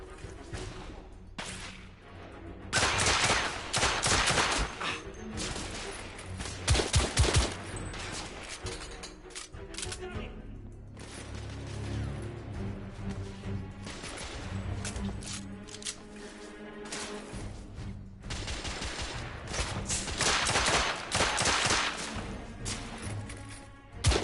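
Game gunfire and weapon handling in The Order 1886, a dense run of sharp bursts and mechanical clatter over a constant loud battle background, with no pauses across the whole stretch.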